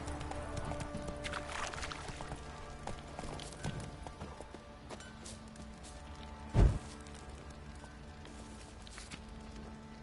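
Roach the horse trots along in The Witcher 3, hooves clip-clopping in a steady, close rhythm, with a single heavier thump partway through.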